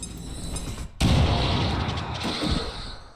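A grenade explodes in XCOM 2, a sudden loud boom followed by a rumbling, crackling tail that fades over a few seconds.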